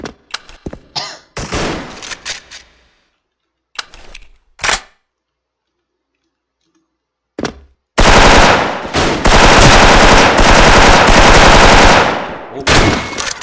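Rifle fire in a first-person shooter video game: scattered short bursts early on, then a long, loud, continuous automatic volley of gunshots near the end.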